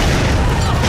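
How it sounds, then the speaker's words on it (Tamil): A loud, full-band movie explosion booms through a scene of the Tamil comedy film Aambala, one dense blast filling the whole short moment with no voices over it. "வெடிச்சிருச்சு."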